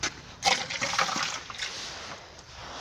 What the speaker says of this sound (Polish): A więc nalewamy wodę do miski